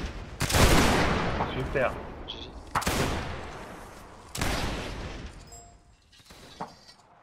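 Musket volleys from a line of soldiers in a video game line battle crash out in three heavy rolling salvos, each a dense burst of overlapping shots that fades away, with a brief spoken word among them.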